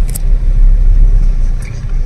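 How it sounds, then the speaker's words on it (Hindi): A heavy truck rumbles past on a hill road on the way to Dugadda from Kotdwar, a loud low engine drone that swells and holds through the moment, with no voices. "ट्रक है, ट्रक जा रहा है"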